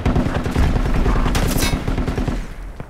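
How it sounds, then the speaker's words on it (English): Machine gun fire rattles in rapid sustained bursts in Project Reality on the Kashan Desert map, loud and close, a dense rhythmic stream of shots with heavy low booms underneath. "they got a machine gun across the way"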